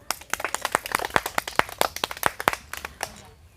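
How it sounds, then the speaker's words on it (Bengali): A small group claps enthusiastically for a prize winner after a spicy fuchka-eating challenge, a dense burst of sharp hand claps for about three seconds that tapers off at the end. "সবাই একটা জোর হাততালি"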